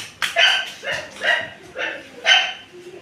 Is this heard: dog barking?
yes